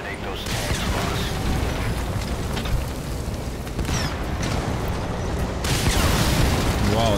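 Explosions and heavy booming hit a tank in Metal Gear Solid 5, a dense, loud barrage of blasts and rumbling mechanical noise that keeps going throughout, with bursts standing out near the start and the end.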